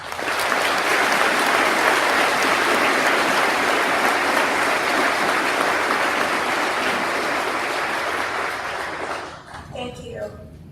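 Sustained, loud applause from a Veterans Day 2017 audience welcoming keynote speaker Vonda Rogers, steady for about nine seconds before tapering off into a few scattered claps.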